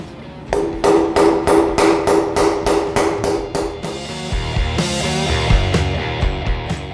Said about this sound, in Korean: 하나씩 접거나 망치질로 이제 휘어서 조립을 해나가는 거죠